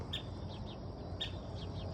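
Outdoors in a tree where a hawk is perched, an agitated bird calls with sharp repeated chirps in two clusters, fairly faint against a steady background rumble.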